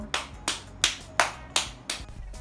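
Six sharp hand claps in an even, unhurried rhythm, close and crisp, with nothing else around them.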